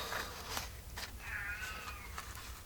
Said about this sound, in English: Oh, there goes the kitty.